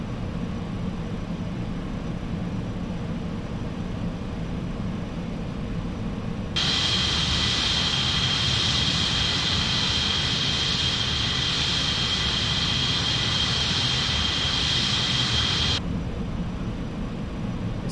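A Concorde in a flight simulator taxis on the ground with a steady low jet roar, and a bright high whine cuts in partway through, holds for several seconds, then drops away.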